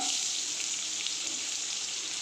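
Onions sizzling and frying in hot oil for a drumstick-leaf sambar, a steady, dense crackle that holds evenly throughout with no voices.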